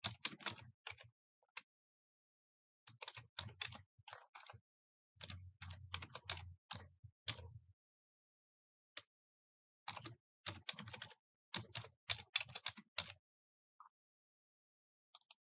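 Login details being typed on a computer keyboard, quick bursts of clicking keystrokes separated by short pauses, close and fairly quiet with no talk.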